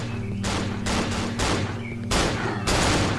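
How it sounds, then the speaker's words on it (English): Bursts of gunfire in the horror video game Cry of Fear, loud close volleys of rapid shots in several separate clusters over a few seconds, with no talking. "I like hearing gunfire in my hometown."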